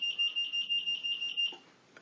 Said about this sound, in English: Detected motion causes the base radio buzzer to beep